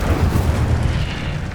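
An Incendio fire spell blast in the Hogwarts Legacy video game on PC, a sustained roaring burst of fiery, explosive noise that stays loud and dense throughout, with no voices.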